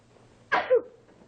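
A single sharp sneeze, a quick two-part burst, in an otherwise quiet room.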